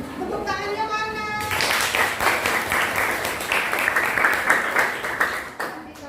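Classroom applause from a group of junior high students, starting with some voices and then becoming a steady, dense clatter of many hands that fills the room for several seconds before tapering off.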